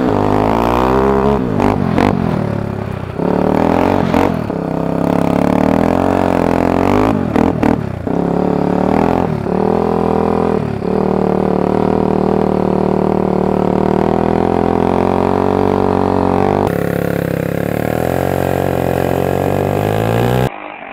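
ATV running on Carlisle Stryker tires, drifting: a loud, continuous engine roar with revving swells and brief sputtering dips, steady throughout with a tonal shift near the end.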